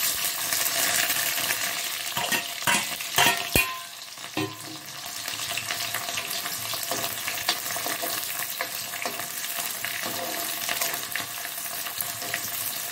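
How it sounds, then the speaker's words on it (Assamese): Onion, bay leaf and dried chilli fry in a pan, a sustained loud sizzle with frequent spoon scrapes and a cluster of sharp metallic clinks early on, then an even crackle throughout. "পিঁয়াজটো যেতিয়ালৈকে ৰঙচুৱা নহয় তেতিয়ালৈকে ভাজিম"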